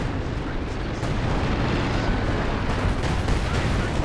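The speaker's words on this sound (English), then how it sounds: "Oh boy, a mine goes off on the Pershing." A mine exploding under a Pershing tank in Company of Heroes 2, with a dense, loud roar of blast and battle noise that swells after the first second and stays thick throughout.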